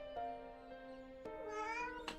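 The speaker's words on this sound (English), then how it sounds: "That's the noise the cat makes when you pet." A cat in a self-made RPG video game meows when petted, giving a few short tonal cries with a longer rising meow at the end, clear and isolated over a quiet background.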